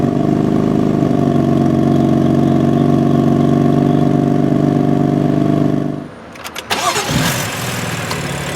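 A 2015 BMW M3's engine idles steadily for several seconds, then cuts out, followed by a crank and catch as it push-button starts loudly and settles.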